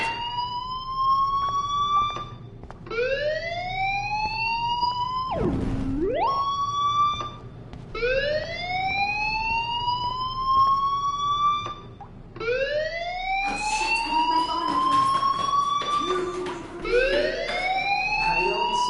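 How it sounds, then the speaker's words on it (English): A fire alarm wails through a school in the Life Is Strange video game, its rising electronic siren tones repeating in long sweeps, loud and steady, with a brief lower swooping tone midway and extra clatter near the end. "do you hear that fire alarm?"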